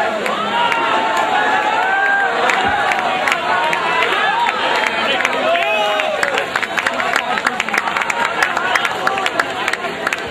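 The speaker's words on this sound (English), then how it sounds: "Please give them a big round of applause." Crowd of an audience applauding and cheering steadily, a dense wash of clapping with whoops and shouts rising through it, loud and continuous throughout.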